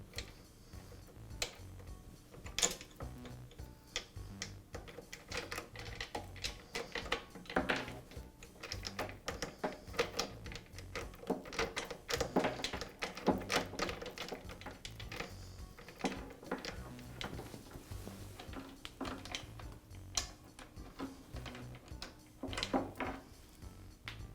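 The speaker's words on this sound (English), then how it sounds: "now I can remove the chain" Faint, irregular metallic clicks and light rattles come from a chain being removed from the sprocket of a Makita planer, close by and quiet.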